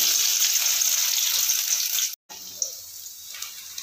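Sliced onion sizzles in a pan of hot oil, a dense hiss that cuts out for a moment and then comes back quieter. No one speaks over it.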